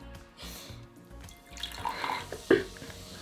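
Liquid from a drink bottle poured into a glass during a mystery-drink taste test, a short splashing trickle with a sharper splash near the end, heard close up with some background room noise.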